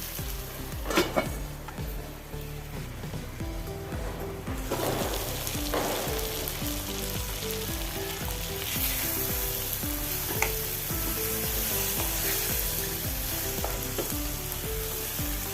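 Kashmiri chili powder being stirred into a frying capsicum masala, heard as a loud continuous sizzle with spatula scrapes and pan knocks, the frying growing fuller partway through.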